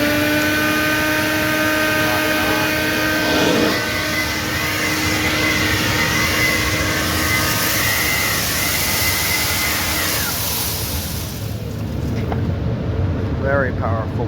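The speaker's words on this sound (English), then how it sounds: "Very powerful blower. That's the Dewalt 60 volt max." A DeWalt 60V max DCBL777 brushless cordless leaf blower runs in a steady loud whooshing roar with a tonal whine, winding down near the end, with a voice talking over it.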